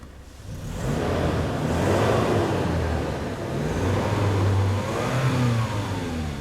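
Toyota Land Cruiser 2.7 engine started on petrol and warming up, a steady close mid-pitched engine note with a few rising revs over the whole clip.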